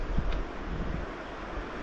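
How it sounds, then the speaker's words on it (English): Strong gusty wind on a winter mountain day buffets the microphone, a broad, continuous roar with a sharper gust at the start, alone without voices. "it's a super windy day"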